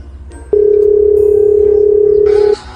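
A steady telephone dial tone, a single unbroken pitch that starts abruptly and holds loud for about two seconds before cutting off, with faint background noise around it.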